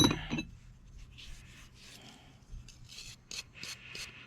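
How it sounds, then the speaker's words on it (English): A wire brush scrubs the threads of original Jeep XJ 4.0 head bolts by hand, giving repeated faint, scratchy rasping strokes in short bursts with brief pauses between them, and no voices. "the threads clean, just very carefully with a wire brush"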